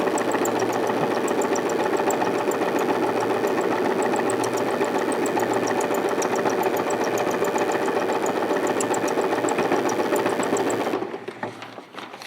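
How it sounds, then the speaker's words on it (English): A sewing machine stitches curved lines at a slow, steady pace, its fast mechanical needle chatter and motor hum loud and close before stopping near the end. "when you're sewing the curved lines, you tend to go slower"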